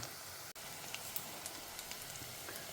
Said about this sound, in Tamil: இப்போ ஓரளவுக்கு பூண்டு வந்து பொரிய ஆரம்பிச்சிருக்கு.